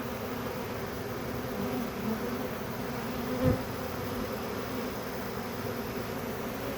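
A swarm of honey bees takes over an established hive, making a dense, continuous buzzing drone that stays steady throughout.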